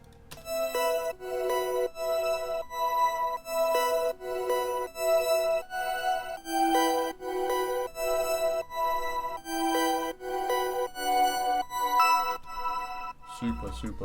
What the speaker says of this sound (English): I've added another bell, which sounds like this.